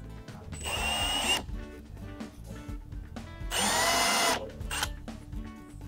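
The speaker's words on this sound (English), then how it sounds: "Now I'm going to drill these all the way through" A power drill bores through a homemade taxidermy base shaped into a small hill for a fawn mount, two loud sustained whining bursts of about a second each with quieter workshop handling between, close up.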